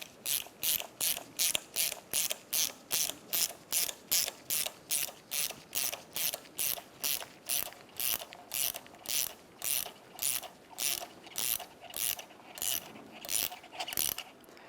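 A hand ratchet fitted with an Allen head socket clicks steadily as it tightens a 17mm strut mount nut on a 1997-2003 Pontiac Vibe, giving a close, loud run of about thirty evenly spaced ratcheting strokes with no talking.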